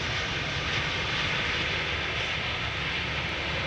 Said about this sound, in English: It is an Apache, isn't it?